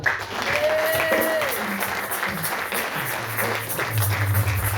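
A church congregation applauds at a sermon, a steady wash of clapping and cheering from a crowd heard throughout, with voices rising above it.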